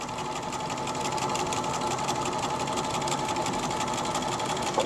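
Sewing machine running steadily while stitching fabric, a continuous close, even mechanical whir and rapid needle chatter for the whole stretch without pause.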